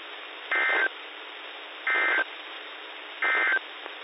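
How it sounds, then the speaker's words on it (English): Three identical electronic tones from an Emergency Alert System weather radio test broadcast, each about a third of a second long, evenly spaced and sounding alone over a steady hiss of narrowband radio audio. "The following tones will conclude this test."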